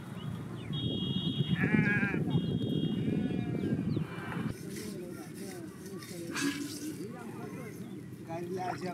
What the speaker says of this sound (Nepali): अनि केही भेडाहरू पनि आए।